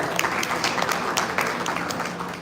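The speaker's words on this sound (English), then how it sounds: "Please have a big round of applause for our speaker" An audience at a conference applauds a speaker with steady, dense clapping that holds for the whole stretch without breaks.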